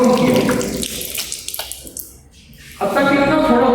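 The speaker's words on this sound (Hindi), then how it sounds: "पानी ज़्यादा चला उसने थोड़ा पानी को कंट्रोल किया" Tap water runs during ablution at a mosque in Urgench, Uzbekistan, flowing loud and close, easing off briefly midway and then gushing again.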